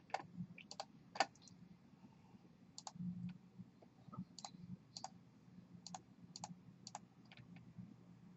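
A computer mouse clicks sharply several times at an irregular pace, close up and fairly quiet, against a faint low hum in the room.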